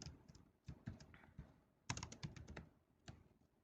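Typing on a computer keyboard while writing code in Adobe Flash, crisp close key clicks in irregular bursts with brief pauses between runs, no talking.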